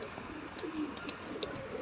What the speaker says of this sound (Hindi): देखो आकिब भाई, ये कबूतर भी लिया